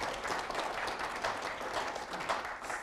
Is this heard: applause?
yes